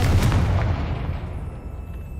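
A Confringo blasting curse explodes in a cave in Hogwarts Legacy, a single loud boom that rolls off into a fading rumble.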